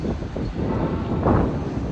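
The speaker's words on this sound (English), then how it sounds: "I'm in the actual train station." Indoor ambience at Hull Paragon Station in Hull, a steady broadband rumble with wind buffeting the microphone and a low murmur, one brief louder swell near the end, no clear voices.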